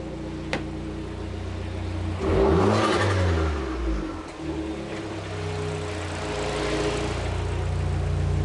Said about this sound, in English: if I just rev it there, I know that's at the bottom. It should spin.